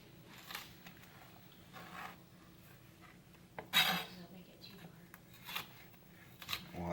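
A kitchen knife slices quartered, deveined and deseeded peppers into julienne strips on a board, faint scattered cuts and taps with a sharper clatter midway, quiet and close with no talk.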